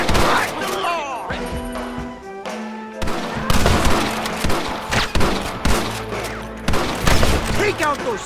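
Dense gunfire in a Red Dead Redemption town shootout on Xbox 360, a continuous fusillade of overlapping shots and crashes, loud and close, with shouting voices mixed in throughout.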